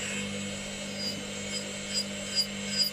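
A coarse electric nail drill bit files off nail product, giving a continuous close whining grind with a steady hum underneath and slight rises in pitch as pressure changes.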